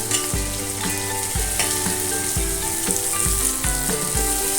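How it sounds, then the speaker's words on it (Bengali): Chopped onions and tomato frying in a pan for a Bengali jackfruit curry, a steady close sizzle broken by repeated scraping stirs roughly once a second. "পেঁয়াজগুলো হয়ে এসেছে, এবার আমি এখানে টমেটো কুচানো দেব।"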